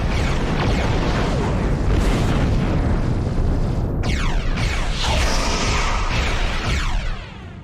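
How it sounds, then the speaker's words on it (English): A space-battle explosion in the video game Star Trek Online, a loud sustained roaring boom with crackling bursts and a second blast midway, fading out at the end, with no voices. "That was a heck of an explosion."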